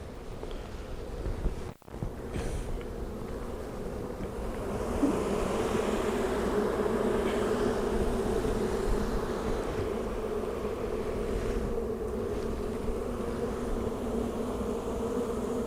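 Bees buzz in a dense, continuous drone close to the microphone, with a sharp knock near the start and light wind noise underneath.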